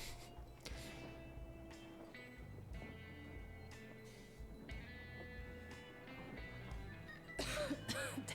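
A character in the game Metro Exodus coughs and clears his throat several times, rough bursts spaced out over a low rumbling in-game ambience, with a louder flurry near the end.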